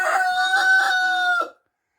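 A sick hen, sneezing and coughing, gives a single drawn-out, harmonic crowing call that lasts about a second and a half, close and clear, then stops into silence.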